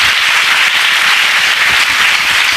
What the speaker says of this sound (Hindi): खड़े होके उसके लिए ताली बजाएंगे